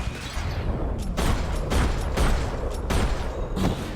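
Gunfire in Max Payne 3, a run of heavy booming shots repeating every half second or so amid dense, loud action noise, with no voices.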